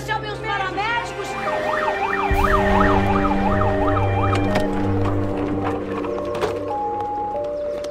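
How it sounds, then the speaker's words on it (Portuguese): An ambulance siren wails in a rapid up-and-down cycle, loud and near, while a vehicle engine rumbles beneath and several people speak over it. "Chame a ambulância, chame os paramédicos!"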